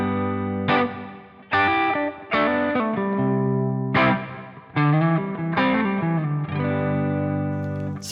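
Rhythm guitar in G, an electric with effects and light distortion, strums chords mixed with pentatonic fills and double stops. Sharp attacks come in irregular bursts and ring out between the strums.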